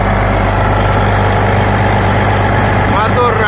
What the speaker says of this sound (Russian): Мотор работает как часики, все отлажено.